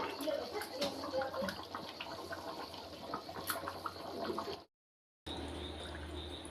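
Rose water poured into a pot of egg biryani as it cooks, a steady watery splash and trickle lasting several seconds, broken by a brief pause before a softer flow resumes.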